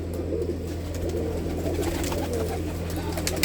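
A flock of pigeons in a big netted aviary keeps up a steady murmur of low cooing, overlapping calls forming a soft continuous bed with a constant low hum underneath.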